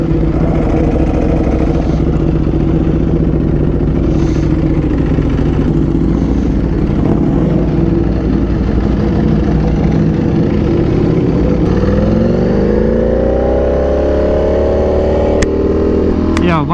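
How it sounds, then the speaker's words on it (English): A V4R motorcycle engine roars loudly and continuously on a dyno in an indoor room, with the revs sweeping upward near the end, while people talk under the din. "This bike is like very loud."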